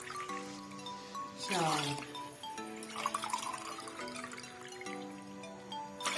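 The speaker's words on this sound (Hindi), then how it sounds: "अब पानी जो है इसमें शामिल करेंगे हम" Water is poured from a glass into a pot of chicken biryani in a few separate pours, each a close splashing gush, while someone talks and counts over it.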